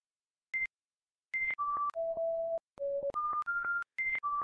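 Morse-code-like electronic beeps from the horror game The Prototype: a pure tone sounds once, then a quick run of short and longer beeps at shifting pitches, clean and isolated against silence.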